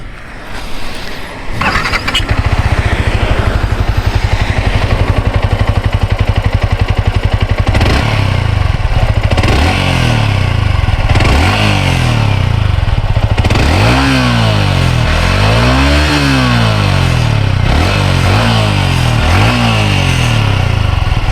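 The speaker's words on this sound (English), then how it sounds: "it's time to hear the exhaust note" Yamaha R15 v3 150cc motorcycle idling close by after a brief start-up, then revved repeatedly in rising and falling bursts, the exhaust loud and throaty with several sharp sweeps.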